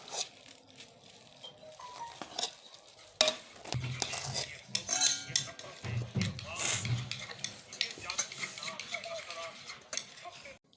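Chana biryani with potatoes is scooped from a pot onto a serving dish, giving soft stirring and scraping with scattered spoon clinks against metal, close and fairly quiet throughout.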